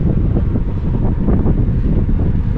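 Steady, loud wind buffets the microphone aboard a small sailboat moving through water scattered with drifting logs, branches and kelp, a continuous low roar with faint water wash and no voices.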